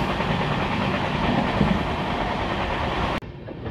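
A Lalkuan–Bandra superfast express rolls slowly past a small station, a steady rumbling clatter of wheels and carriages heard close up from on board, cut off sharply near the end.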